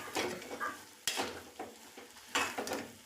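Onion egg pulao being stirred in a pot, with a utensil making repeated scraping sweeps against the pan over a faint sizzle, three or four distinct strokes close up and no voices.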